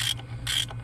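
A ratchet turns on the water pump pulley bolts, giving two short bursts of quick clicking up close, with a brief gap between them.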